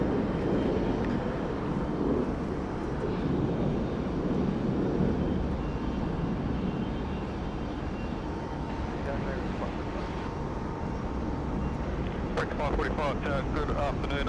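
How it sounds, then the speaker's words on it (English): A Qantas 787 airliner warming up its engines at Sydney Airport, a constant broad roar heard from a distance under steady talk and radio chatter. "As we're just watching our Qantas 787 there, warming up for its departure later this afternoon."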